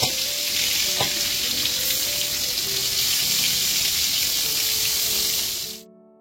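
Tempe pieces frying in hot oil give a loud, steady, dense sizzle with crackling throughout, close by and unbroken, before cutting off abruptly near the end.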